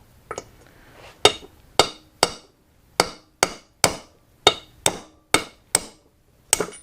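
A hammer strikes a socket to drive a bearing out of a 1976 Honda Elsinore MR175 motorcycle, giving about a dozen sharp, ringing metallic blows at a fairly steady rhythm, loud and close.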